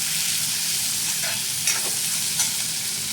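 Shredded cabbage tossed into a hot pan and stir-fried for Schezwan and Hakka noodles, giving a steady close sizzle with a few sharper crackles and scrapes partway through, no talking.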